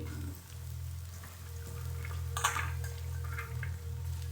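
Fresh spinach leaves dropped into a hot pan with fried onion and green chillies, giving a steady close sizzle and crackle with a brief louder spatter midway, no voices.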